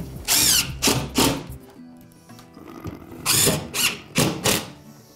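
A power drill drives screws through drywall into studs, with several short whirring bursts separated by brief pauses, close and loud, and no talking.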